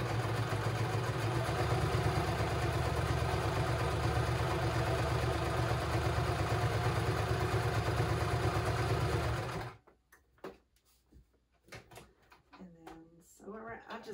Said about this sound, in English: I will sew just real quick around the edges